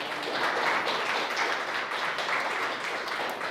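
A church congregation applauds during a sermon, a steady dense wash of clapping at moderate volume that holds evenly for several seconds with no voices over it.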